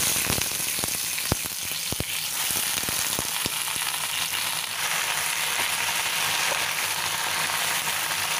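Vegetables sauté with garlic and ginger in a hot pan, a continuous loud sizzle broken by a few sharp clicks of a utensil against the cookware early on.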